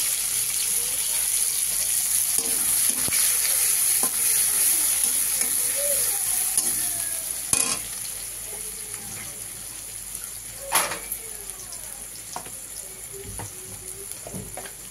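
Chopped onions fry in a pan for a rui fish curry with okra and potato, giving a steady, close sizzle with occasional stirring clinks and a few sharper scrapes.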